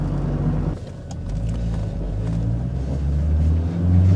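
A Pontiac Fiero sports car with a four-cylinder engine and five-speed manual gearbox accelerates, its loud engine rumble swelling and dipping briefly, then building steadily again as it pulls away.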